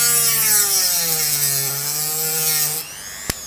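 An INGCO mini rotary tool cutting at its second speed setting gives a steady high-pitched whine with a sawing edge that drifts slightly in pitch, then drops off near the end with a brief click.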